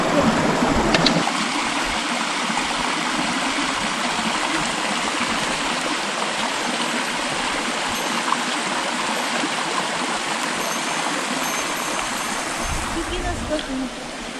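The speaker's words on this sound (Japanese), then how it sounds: "沢のお水が冷たくて気持ちいいで、ポンちゃん" Cold mountain stream at the third creek crossing on the Mount Mikagura trail rushes and babbles steadily up close, a continuous bright wash of flowing water with a brief bump near the start.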